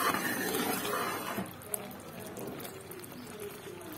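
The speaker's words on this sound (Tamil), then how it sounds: "பாருங்கள், தண்ணியை கீழே ஊற்றிட்டேன்" Water is poured off thick jaggery syrup while making adhirasam, a fairly loud liquid splash and pour at the start that tapers into quieter wet sloshing, with a voice talking over part of it.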